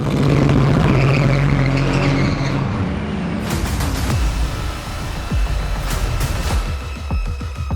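Race cars at the Petit Le Mans endurance race roar loudly, engines screaming as the cars run wheel to wheel down the back straight, with a sharp shift in pitch midway and brief high bursts near the end.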